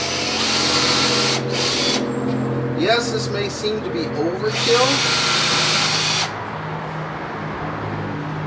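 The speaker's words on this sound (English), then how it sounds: "take your bit, drill your three holes" Power drill boring holes in a wood board: loud high whining bursts, two separated runs with a longer sustained drilling passage, up close, while someone talks between and over them.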